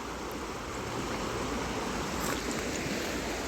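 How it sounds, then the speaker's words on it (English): A creek flows in a steady, soft wash of rushing water, continuous and fairly faint, with no voices. "Thankful there the creek still flows."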